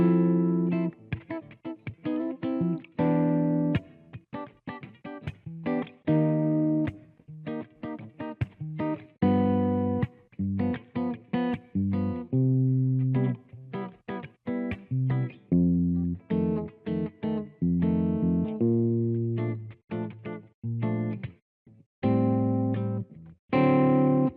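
A distorted electric guitar plays a short chord progression, chords changing rhythmically with brief gaps, loud and close with a chorus-like shimmer.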